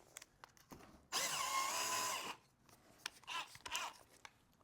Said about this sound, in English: So you can pre-drill your hole